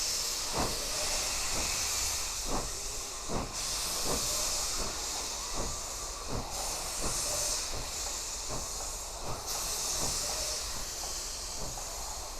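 A steam locomotive, uncoupled from its train, hisses loudly and steadily, with metallic clanks and knocks recurring every second or so beneath the constant rush of steam.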